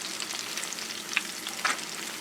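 Homemade chicken fingers frying in hot oil in a home kitchen, a steady close crackling sizzle with occasional louder pops, heard alone without talk.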